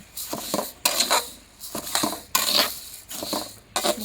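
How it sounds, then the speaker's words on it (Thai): Roasted rice and chili are pounded in a mortar, giving a series of sharp knocking and scraping strikes in uneven bursts, close and fairly quiet. "ตำพริกเด้ ตำข้าวคั่ว"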